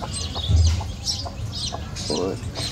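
A hen on a chicken farm, brooding over hatching eggs, clucks in a few low, throaty bursts close by, with a soft voice talking in the background.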